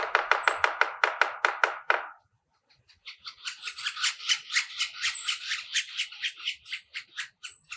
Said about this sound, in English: the drumming of a yellow-bellied sapsucker